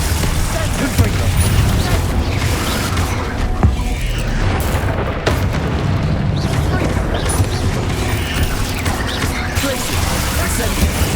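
Confringo fire-spell blasts in Hogwarts Legacy combat, a dense, loud wash of booming impacts and crackling effects with a few sharp hits, heard under a voice casting spells.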